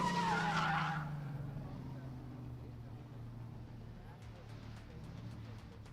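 A black Nissan 370Z drift car skids through a corner at a drifting event, with a loud burst of tyre squeal in the first second that gives way to a fainter engine drone while a commentator talks.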